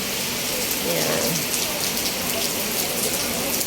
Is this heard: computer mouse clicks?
no